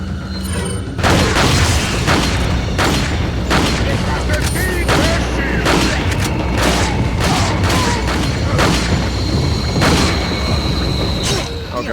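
Repeated loud booming shotgun blasts in the 2005 video game Resident Evil 4, a series of close, heavy gunshots spaced a second or so apart over constant game noise, with a voice talking along.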